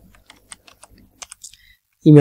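Quick, light keystrokes tap on a computer keyboard in a quiet room, a short irregular burst of clicks, followed by the start of a loud voice.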